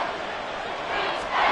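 Stadium crowd noise from an American football video game, Vikings at Panthers, a steady broad roar that swells slightly toward the end, heard alone with no talk over it.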